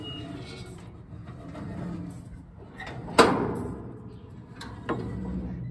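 A New Holland 273 baler's mechanism is turned over by hand, giving a few soft mechanical knocks and scrapes with one sharp clack in the middle and a lighter clunk near the end.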